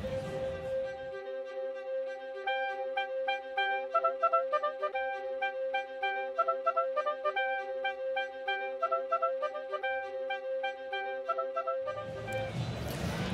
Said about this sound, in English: Now, what you're hearing now is a live oboe